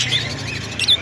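Lovebirds chirp at a busy outdoor bird market, a few sharp close tweets over a low background hum, heard within a single brief second.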